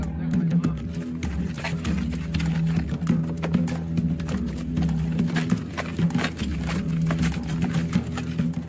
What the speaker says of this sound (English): You enter the tropical bush while the hooves of the foals sink into the mud.